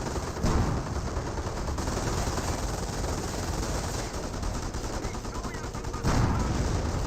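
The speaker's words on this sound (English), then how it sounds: "The Rifle Squad is as well getting some shots on in." Rifle squad gunfire in the World War II strategy game Company of Heroes, a dense, steady crackle of shots and battle noise filling the whole stretch, with brief louder bursts near the start and end.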